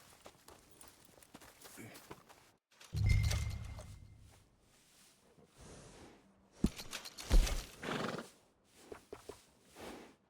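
A horse whinnies loudly in Red Dead Redemption 2, a long neigh followed by snorts and a second whinnying burst, with hoof clops and quieter game sounds between.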